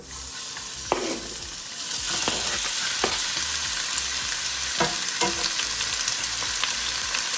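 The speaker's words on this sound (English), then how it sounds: "I'm gonna go ahead and start browning up my chicken and cook it until it's done" Chicken browns in a hot pan seasoned with salt, pepper and garlic powder, giving a steady close sizzle with a few sharper pops and stirring clicks throughout, no talking.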